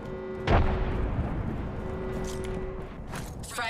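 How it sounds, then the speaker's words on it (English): A frag grenade detonates in the Apex Legends video game: one sharp, loud blast followed by a rumbling decay, set against ongoing gunfire and game noise. "Throwing frag."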